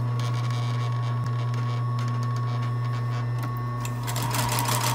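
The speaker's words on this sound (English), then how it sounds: "sewing the rest of that body side seam together" A sewing machine runs steadily while stitching the body side seam of a tiny orange sweater, its close, even motor whir and needle rattle holding for the whole stretch with no talk.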